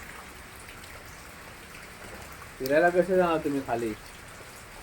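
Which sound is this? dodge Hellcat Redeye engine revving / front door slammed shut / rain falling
rain falling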